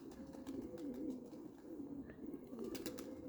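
Soft, repeated pigeon cooing close by, a low throaty warble rolling on throughout, with a few faint chirps in the background.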